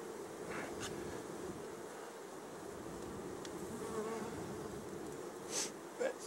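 Bees buzz steadily at an open beehive in a winter hive check, a dense continuous hum close to the microphone with a few individual bees droning louder as they pass near.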